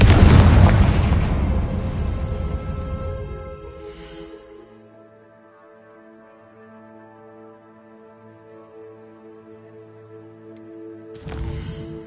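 A Confringo blasting spell goes off in Hogwarts Legacy, a loud booming burst that rolls out over about four seconds and fades into a quiet humming background, with another sharp burst near the end.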